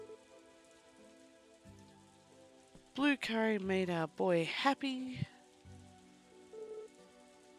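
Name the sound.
rain in video game Story of Seasons: A Wonderful Life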